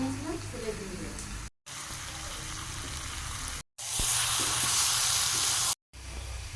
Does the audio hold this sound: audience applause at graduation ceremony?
no